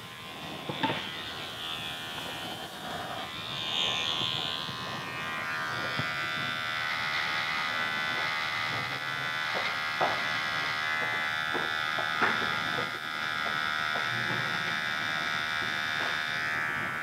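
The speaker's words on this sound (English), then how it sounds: "I could take my trimmer and blend some of that line out like that" An electric hair trimmer buzzes steadily and close up while a barber works on a men's classic fade. The whine holds throughout with small clicks and shifts and no talking.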